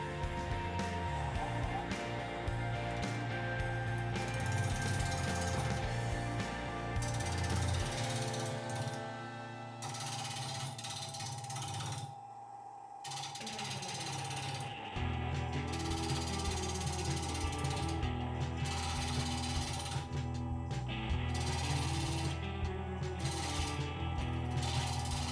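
A wood lathe spinning a bowl blank of unidentified wood at about 1000 RPM while a 3/8 inch bowl gouge cuts it, giving a steady mechanical whir and chattering hum that runs on continuously, dipping briefly midway before resuming at full level.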